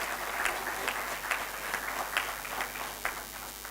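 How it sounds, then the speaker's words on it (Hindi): Audience applause at a school valedictory function, steady clapping from a crowd sustained throughout with no talk over it. "प्लीज इनके हस्बैंड के लिए थोड़ी सी तालियां बजा दीजिए"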